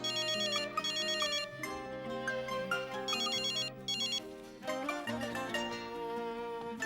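A telephone ringtone plays a repeating electronic melody, steady and clear, cycling through its pattern without pause.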